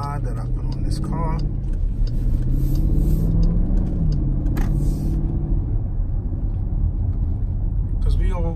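A 2018 Dodge Durango SRT on its stock exhaust makes a deep, steady engine rumble, loud and continuous, with someone talking over it.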